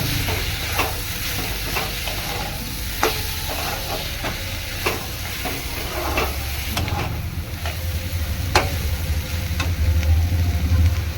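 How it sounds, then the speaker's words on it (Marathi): Curry leaves and masala sauté in a pan for a Maharashtrian dry cluster bean dish, with a steady sizzle and repeated sharp scrapes and clinks of a spatula stirring, close and continuous. "हे छान परतून घेऊया."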